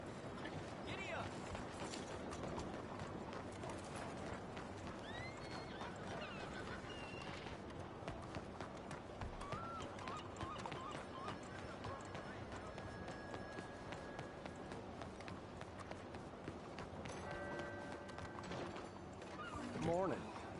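A horse in the Red Dead Redemption video game gallops with steady hoof clatter, whinnying now and then over continuous game ambience and music for about twenty seconds.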